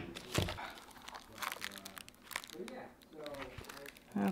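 Kids' blue-blocker glasses packaging is cut and opened, with crinkling plastic and rustling handling noises close by, mixed with quiet talk.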